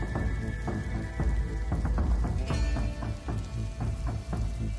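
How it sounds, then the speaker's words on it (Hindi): Rain falls in a steady patter, with heavier drops striking a surface in a loose, repeating rhythm over constant wet hiss, fairly loud and close, with no voices. "बारिश में हम तो पूरी तरह से भीग गए।"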